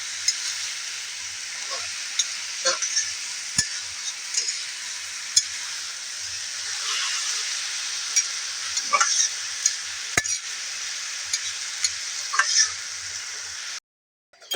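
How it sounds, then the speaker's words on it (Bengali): Taro labra, a mixed vegetable dish, is stirred and fried in a pan. A steady sizzle runs throughout, punctuated by sharp, irregular scrapes and clicks of the spoon against the pan, with no talking. "এখন এখানে রান্না করা হচ্ছে কচু লাবড়া সবজি দিয়ে"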